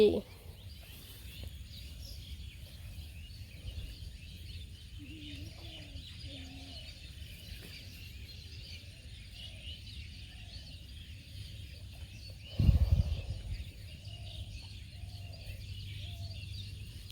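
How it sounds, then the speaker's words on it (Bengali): Soft bird calls and cooing drift in from a distance at dusk in a village, over a low steady background hum, with a brief louder rustle partway through. "আর ওই দিক দিয়ে যে পাখিটা কিচির মিচির করে বানছে"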